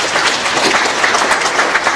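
A church congregation clapping in thanksgiving during a Protestant service, a dense, steady wash of hands throughout, with no talk over it.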